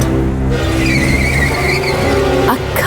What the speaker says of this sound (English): A car hit Pollyanna.